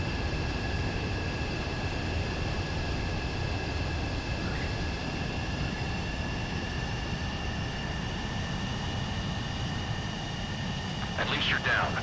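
Aircraft landing in the Ace Combat flight game, a constant engine drone with steady high whining tones running throughout and a brief sharper burst of noise near the end.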